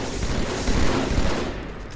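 Steady burst of gunfire from a Halo 2 team doubles match on the Midship map, dense and continuous at close range with no talk over it.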